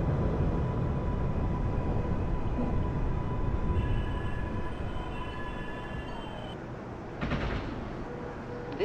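A Manhattan-bound NYC subway F Express train in the openBVE simulator rumbles steadily with a humming, droning tone, then gives a short metallic clatter near the end.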